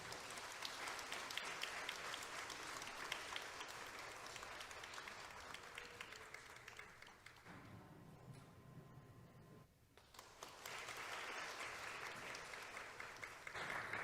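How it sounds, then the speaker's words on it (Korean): Sustained audience applause at a Korean celebration worship service, steady clapping that thins and briefly drops out before swelling again, crowd-filled and continuous. "네, 나오실 때 박수 부탁드리겠습니다."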